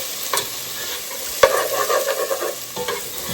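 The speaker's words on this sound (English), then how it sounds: "So I'm using my spoon just to scrape some of that off for now." A spoon scrapes and stirs onions in a pot, a close, steady scraping and clatter over a soft sizzle, with a couple of sharper knocks against the metal.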